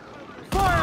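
A single loud ship cannon blast from Assassin's Creed IV Black Flag hits suddenly after a quiet lead-in and booms on to the end.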